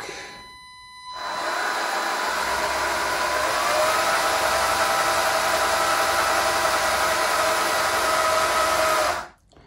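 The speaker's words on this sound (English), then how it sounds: "there's no oil in the prop shaft as yet, so expect some noise" A small electric motor in a 1:200 radio-control Titanic model ship turns a dry, unoiled prop shaft, whirring steadily for several seconds, a constant high buzzing drone with grinding mechanical noise, starting abruptly and cutting off at the end.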